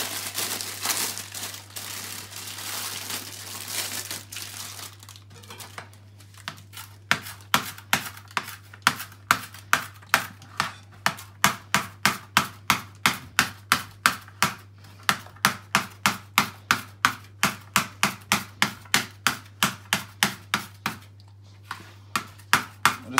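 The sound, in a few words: knife chopping fresh coriander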